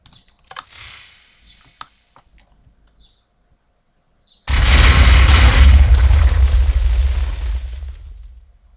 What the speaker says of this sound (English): I promised you a big explosion, and a big explosion you got